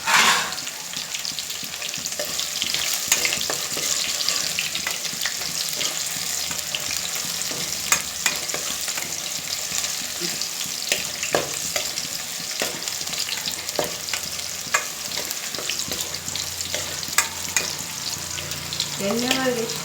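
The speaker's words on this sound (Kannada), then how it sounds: "ಎಣ್ಣೆ ಒಳಗೆ ಎಷ್ಟು ಫ್ರೈ ಮಾಡಿದ್ರೆ ಅಷ್ಟು ಟೇಸ್ಟ್ ಚೆನ್ನಾಗಿರ್ತೈತೆ" Gongura mutton fries in oil in a pan, sizzling steadily throughout with frequent scraping stir strokes and clinks, close and loud, with no voices.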